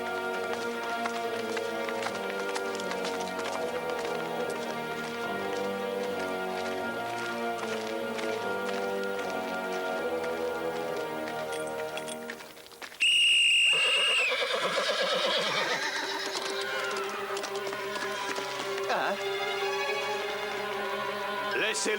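Horses galloping and neighing in a period adventure drama scene, with a loud whinny cutting in midway over continuous orchestral music and hoofbeats.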